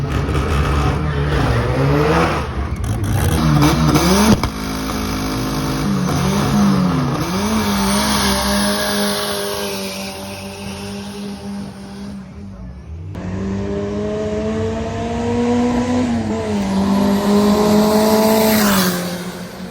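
Drag racing cars at a South African meet roar down the strip, with loud rising engine notes that shift through gears, fade as the cars pull away, then build again as the next one launches, with a sharp squeal near the end.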